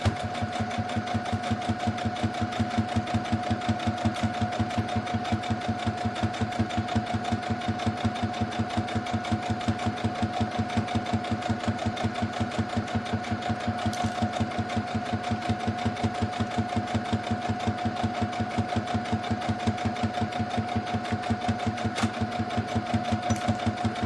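A sewing machine runs steadily while stitching along the edge of an apron tie, with a fast, even mechanical clatter and a constant whirring hum that continues without pause.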